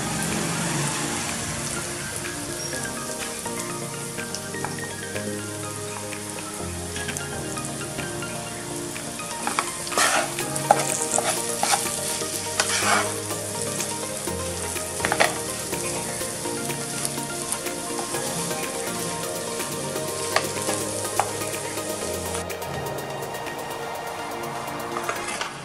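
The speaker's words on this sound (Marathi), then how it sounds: "एकत्र करून घ्यायची छानशी भाजी।" Mashed potato for a vada pav filling fries in a pan with a long, steady sizzle and crackle, broken by louder stirring clatters in the middle, with no speech.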